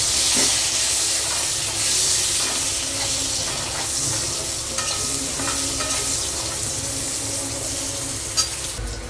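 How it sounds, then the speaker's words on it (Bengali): Brinjal slices frying in the hot oil left over from fried fish, a loud continuous sizzle and hiss close by, with faint occasional clinks of stirring. "বন্ধুরা, ওই মাছ ভাজার তেলেই আমি বেগুনটাকে ভেজে একটু তুলে নেব।"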